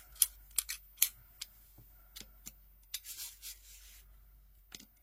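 Scissors cut paper in a quiet room, giving a series of faint, crisp snips and short rustles at an irregular pace, close by with no voices.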